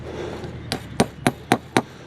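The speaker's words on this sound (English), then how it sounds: "I'll stick a nail through there" A hammer strikes a nail into a wooden fence post five times in a quick, steady rhythm, each blow a sharp, close knock.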